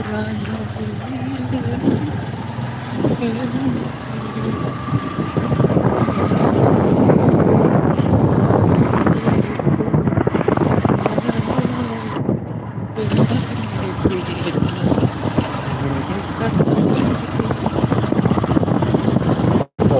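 A steady, loud motorcycle engine drone with wind rushing past on a night ride through mist, continuing throughout with faint voices now and then.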